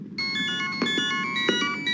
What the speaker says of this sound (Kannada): daddy phone,